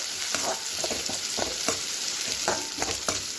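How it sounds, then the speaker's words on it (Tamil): Onions sauté in a pan for brinjal thokku, a soft continuous sizzle broken by irregular scraping stirs, close and moderately quiet with no talking. "இப்போ வெங்காயத்தை நல்லா கலந்து விட்டு வெங்காயம் நல்லா வதங்கிக்கட்டும்"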